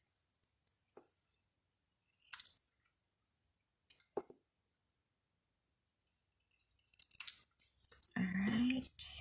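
Scissors snip paper during card making: a few short, sharp cuts spaced apart in a quiet room, then a busier stretch of rustling and handling near the end.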